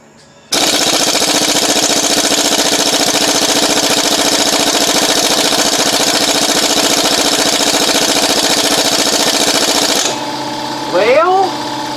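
A loud impact gun hammers away on a vehicle's hot brakes, chattering continuously for about ten seconds before cutting off, with a brief clank and a softer mechanical noise afterward.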